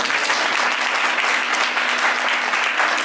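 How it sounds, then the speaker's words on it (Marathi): Audience applause during a church sermon in Mumbai, a dense, steady burst of clapping from a crowd lasting a few seconds, loud and continuous throughout. "करा टाळ्या"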